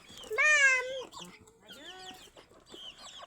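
Chickens cluck in a rural village farmyard: a loud, close burst of clucking calls followed by a few softer, shorter clucks, with no talk over them.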